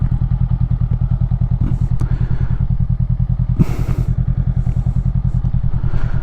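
A Honda CMX500 cruiser motorcycle is ridden through a tight corner, its loud, steady parallel-twin engine thrumming with a regular pulse and a couple of brief clunks and rattles over it.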